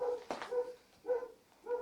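A dog in the war-damaged town of Orikhiv barks three times in a steady rhythm, moderately close, with a sharp knock just before the first bark.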